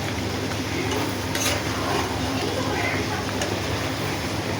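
Meat cooking in a pan for a home Qurbani dish, giving a steady broadband sizzle and bubbling that runs through the whole stretch, with faint clinks and no talk.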